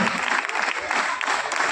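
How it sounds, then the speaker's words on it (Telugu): Students at a village school meeting clap in a lively burst of applause, with voices audible alongside the clapping. "చప్పట్లు ఎవరైనా ఉత్సాహం తీసుకురావాలి"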